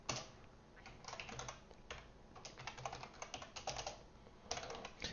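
Someone types on a computer keyboard, a quiet, irregular patter of key clicks in short bursts and pauses, with no talking.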